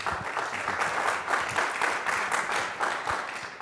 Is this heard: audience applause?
yes